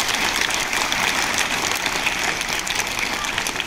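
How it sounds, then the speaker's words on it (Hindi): A school audience at a Kargil Vijay Diwas celebration claps loudly for a student, a thick continuous roar of many hands that stays even and close throughout. "मीर आसिफ के लिए जोरदार तालियां हो जाए।"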